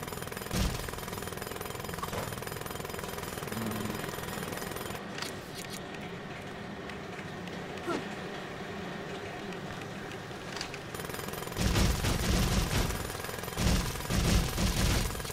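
Rapid mechanical drill hammering from construction drills in the LEGO Movie Videogame on PC, a steady dense rattling that runs throughout and grows louder and harsher toward the end, with no talk.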